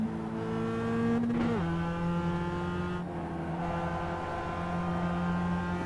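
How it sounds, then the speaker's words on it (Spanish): A race car engine in the racing video game iRacing holds a steady, buzzing drone, its pitch dipping and climbing with gear shifts, loud and continuous throughout. "Me gusta cómo suena el motor."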